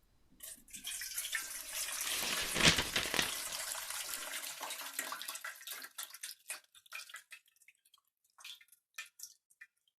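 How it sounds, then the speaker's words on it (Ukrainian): Water pours and splashes from jars of grape leaves into a bowl for a few seconds, then trickles and drips away to scattered drops, fairly quiet and nearby. "А потім виливаємо оцю всю воду у миску."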